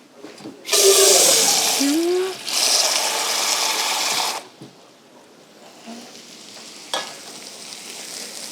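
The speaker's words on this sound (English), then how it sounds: "After you get your onions all nice and toasted, you can add some water just to get it nice and wet." Water poured into a hot pan of toasted onions seasoned with black pepper and hot sauce, a loud burst of hissing sizzle that swells twice, then settles into a quieter bubbling simmer with a few clinks.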